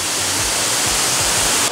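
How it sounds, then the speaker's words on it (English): The indoor waterfall in the Eden Project's rainforest biome gives a dense, even roar of falling water, loud and close with no voices. "There's a nice breeze coming from this waterfall."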